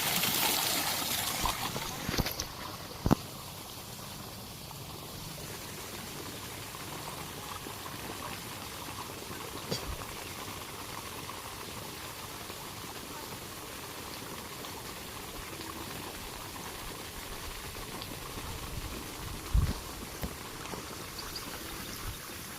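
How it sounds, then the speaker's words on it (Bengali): Water flowing below, a steady broadband rush running throughout with a few brief louder knocks and splashes near and at the end, no talk. "আর নিচে কত জল দেখো"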